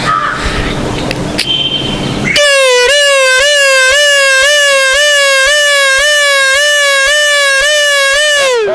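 A human voice imitates a police car siren with a loud, piercing wail that rises and falls in a steady rhythm for several seconds, following a short burst of noisy chatter.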